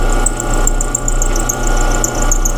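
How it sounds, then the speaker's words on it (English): A lathe takes an interrupted cut down the side of a cast iron bushing for a flywheel hub, giving a steady loud machining drone with a high chattering whine that pulses irregularly as the tool meets and leaves the material. "Back into interrupted cut now. We're cutting just down the side of the bushing on the back."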